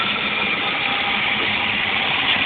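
A 267 V8 with a freshly rebuilt carburetor idles on first start, giving a steady, dense, unbroken drone that holds at a constant level throughout, near and without voices.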